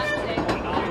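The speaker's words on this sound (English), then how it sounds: "How are you enjoying your train ride?" An amusement park train ride at Blackpool Pleasure Beach, a loud, close, continuous rolling clatter of wheels on track, unbroken for about a second.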